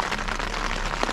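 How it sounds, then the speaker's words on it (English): Rain patters steadily on a tent in wet weather, a soft continuous hiss of drops with no talking. "given that it's raining and wet"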